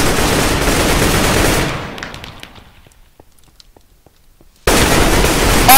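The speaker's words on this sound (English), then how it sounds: "Bullets." Gunfire in Minecraft Counter Strike: a loud, dense burst of rapid shots fades into sparse scattered pops and near silence, then a sudden heavy barrage erupts again close by.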